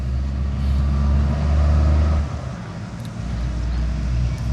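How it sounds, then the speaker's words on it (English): A truck passes on a country main road, a low rumbling roar that swells and holds for about two seconds, then fades into a quieter, steady engine hum. "Now we got another truck coming by."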